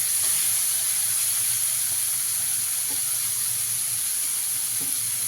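Papaya pieces hit a pan of fried spice masala, producing a steady, close sizzling hiss with a few faint clinks of a spoon scattered through it, with no talking.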